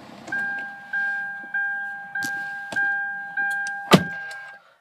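A used Kia Sportage CRDI KX-4 chimes through a row of regular, evenly spaced dashboard warning tones as its push-button start is pressed, ending with a sharp click.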